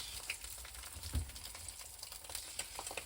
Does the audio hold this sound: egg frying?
yes